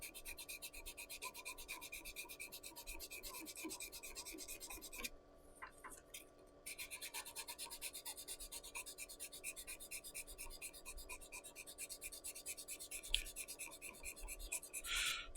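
A pen being sanded by hand with very coarse sandpaper from a big roll gives a steady, close, gritty rasping that runs continuously. It pauses briefly partway through, then resumes. No one speaks.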